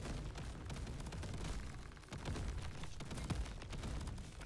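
Rapid, continuous gunfire in Crab Champions, dense crackling shots over a heavy rumbling game mix, loud and steady throughout with no talk.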